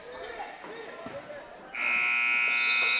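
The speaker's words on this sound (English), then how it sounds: "the buzzer runs out before Patriots are able to get a shot off" A long, loud electronic buzzer sounds at the end of a period in a high school basketball game, cutting in over gym crowd noise and ball bounces and holding steady to the end.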